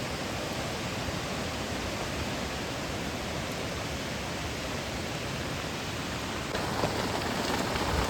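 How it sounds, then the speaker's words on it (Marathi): Heavy rain falls steadily outdoors at Fansad Dam, a dense, even hiss of drops on surfaces, loud and continuous throughout and swelling slightly toward the end. "पाऊस बघा, पाऊस डेंजर."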